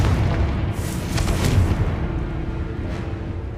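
A Confringo blasting spell in the Hogwarts Legacy video game sets off a deep booming explosion with a rumbling low roar and a couple of bright bursts. It is loud and close, and no voice is heard.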